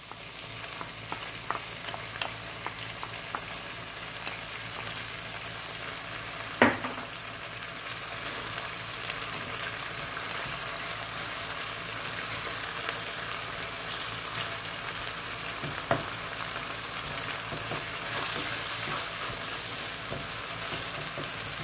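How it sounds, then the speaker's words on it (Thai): Canned fish poured into a pan with its liquid and stir-fried for a fish-and-egg dish, a steady wet sizzle with occasional clinks and scrapes of a utensil, close and even throughout, no speech. "เอาตัวปลากระป๋องใส่ลงไปนะครับ1กระป๋องนะครับพร้อมน้ำนะครับผม"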